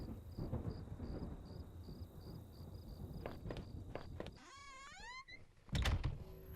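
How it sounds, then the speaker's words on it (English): Thunder and rain from the video game Home, a low rumbling storm with patter, faint and ambient, punctuated by a few clicks and a sweeping mechanical sound before a final heavier rumble. "Sounded like it was going to start raining again."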